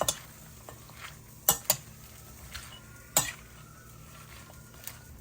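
A pear salad with pecans is tossed with dressing, giving soft rustling stirs broken by a few sharp clinks of utensils against a bowl, close by and with no talking.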